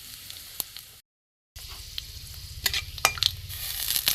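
Panch phoron spices crackle and sizzle in hot mustard oil in a kadai, a steady close frying hiss with sharp pops, briefly cut off near the start, then building louder.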